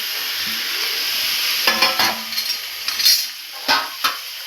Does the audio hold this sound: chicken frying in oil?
yes